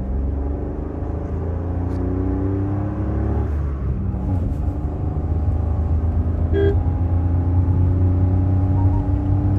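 A Maruti Swift cruises in second gear, its engine holding a steady, close, continuous rumble with faint road noise and a brief click midway, no talking.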